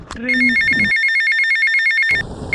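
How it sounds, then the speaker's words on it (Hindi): A telephone rings with a rapid electronic trill, loud and close, starting just after a short burst of voice and cutting off abruptly. "रुको, फिर से फोन आ गया।"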